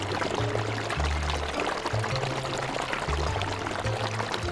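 Water pours steadily from a village pump pipe into a lake, making a continuous gushing splash over a low, pulsing mechanical hum.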